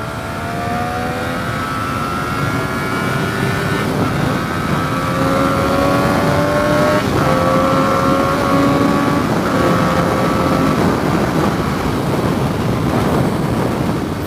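A Triumph motorcycle ridden on the road, its engine note climbing through rising whines across several gear changes under heavy rushing wind noise.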